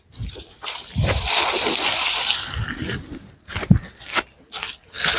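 A bull drinking and water splashing at a village watering spot: loud sloshing and gushing water runs for about two seconds, then breaks into shorter splashes and spatters, with no talk.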